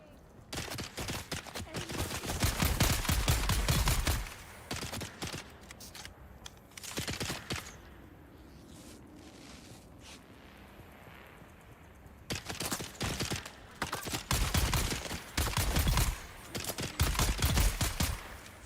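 Rapid bursts of gunfire in the video game Dune: Awakening, sharp shots clustered in several volleys with quieter gaps between them and faint talk underneath.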